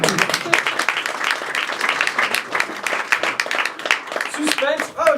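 Audience applause at an informal French awards-style evening: dense, continuous clapping from a crowd throughout, fairly loud and close, with a voice coming in briefly near the end.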